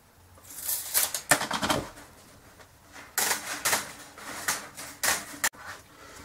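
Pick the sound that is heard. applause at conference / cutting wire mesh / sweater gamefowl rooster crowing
cutting wire mesh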